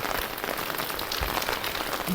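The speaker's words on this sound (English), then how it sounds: "Suddenly it has been raining for 2 days now and heavily snowfall." Heavy rain falling in McLeodganj, Himachal Pradesh, a dense, steady wash of drops hitting surfaces close by, loud and unbroken throughout.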